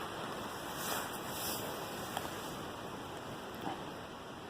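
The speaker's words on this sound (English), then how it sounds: "the wind's been kicking up" Wind gusting across an exposed mountain-top hammock camp, a steady broadband rush with gentle swells and no clear voices.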